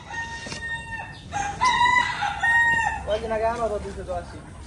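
Native chickens on a poultry farm, with a rooster crowing in long drawn-out calls and hens clucking close by, the sounds overlapping and fairly loud through the whole stretch.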